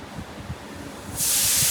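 A pressure cooker cooking moong dal rice lets out a loud hissing burst of steam that starts abruptly near the end. Low kitchen rumble and clatter sit underneath before it, with no talk.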